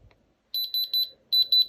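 A Diamond Selector II tester gives a run of clear, high electronic beeps in two bursts, five quick pulses then a short gap and two more, close and alone in a quiet room.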